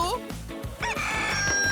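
A cartoon rooster in PAW Patrol crows loudly in a long, rising and falling call, with bright musical tones playing behind it.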